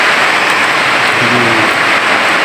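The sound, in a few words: rain falling outside old church in Valladolid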